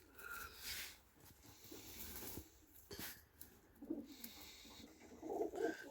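Lemon Turkish pigeons in a loft during freezing weather give soft, low, throaty coos at close range over faint rustling and background murmur.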